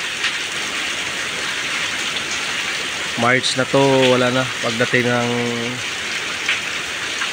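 Heavy rain pours steadily in a rainy-season downpour, a dense hiss throughout, while a person talks over it partway through.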